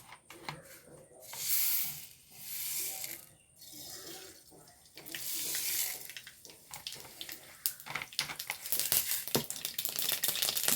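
Mustard seeds crackle and splutter in hot coconut oil in a pan, with swelling hissing surges early and a growing run of sharp popping clicks toward the end.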